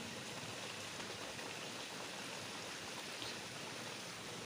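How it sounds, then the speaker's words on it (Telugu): A downpour pours without pause, a uniform broad wash of rain noise filling the whole stretch, moderately quiet and with no one speaking. "చూడండి వర్షం ఎంత పెద్దగా పడుతుందో"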